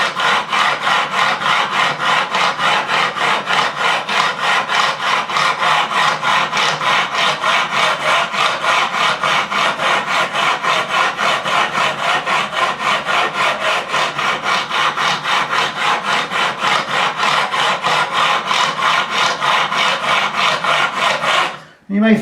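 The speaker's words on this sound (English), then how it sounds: "These frets need levelling, especially in this part." Steady back-and-forth rasping as frets are levelled on a made-in-Japan Fender Stratocaster neck, an even stroke rhythm running close and loud throughout before stopping abruptly at the end.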